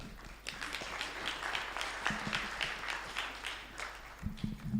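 Audience applause for a departing high-level panel at a national stakeholders' forum on housing, a steady wash of many hands clapping at moderate distance, sustained for several seconds.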